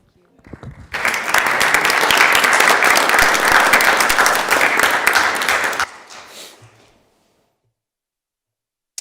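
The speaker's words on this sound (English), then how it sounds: "give her a big round of applause" Applause on the Senate floor for a senator's birthday, a sudden burst of many hands clapping steadily for about five seconds, then tapering off into near silence.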